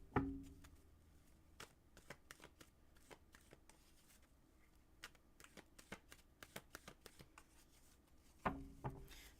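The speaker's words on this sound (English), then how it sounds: "let me shuffle these cards for you" A deck of playing cards is shuffled by hand at close range, quiet irregular riffles and sharp snaps spread across the stretch, with a louder burst near the start and another near the end.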